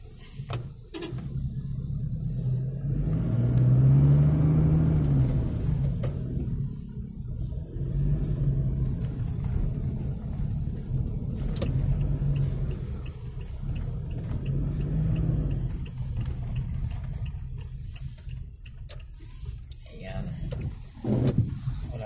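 City traffic on McKinley Road in Bonifacio Global City on a drizzly Tuesday night, a continuous low rumble of car engines with passing and revving vehicles, steady and fairly loud throughout with a voice talking over it.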